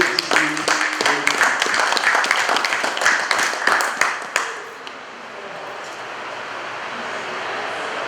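Audience at an e-passport launch ceremony breaking into loud, sustained clapping that fades out after about four seconds, leaving quiet room tone.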